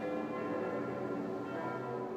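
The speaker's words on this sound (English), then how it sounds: "France resonated with the sound of church bells." Church bells ring in France, a faint, distant resonant tolling with sustained overlapping tones over quiet ambience, no voices.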